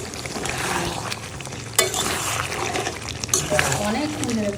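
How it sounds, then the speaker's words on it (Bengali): Mutton sautéing in a pan with a continuous frying sizzle and wet stirring and scraping noises, sharper clanks now and then, and a voice talking over it. "এবার এই যে আমি 10-15 মিনিট ধরে আমি কষছি"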